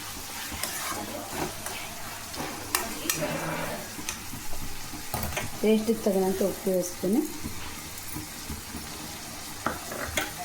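Stirring a pan of frying coconut rice ingredients, with a close sizzle and scraping spoon strokes in short bursts, while someone talks over it.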